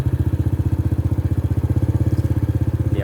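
A motorbike engine putters steadily while riding through a village, its rapid even firing pulses loud and close, with a steady rhythmic throb and no talking.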